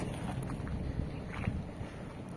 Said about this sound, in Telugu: ఈ ట్రాక్టర్ వస్తున్నది